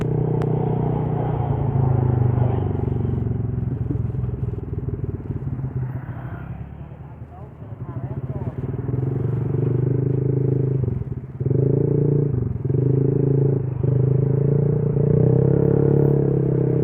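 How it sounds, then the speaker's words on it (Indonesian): A motorcycle with an aftermarket racing exhaust rides along an open road, its engine rumbling loud and steady throughout, with brief dips and surges in the note as the throttle changes. "Ya kalau di jalan kayak gini tuh enak knalpotnya"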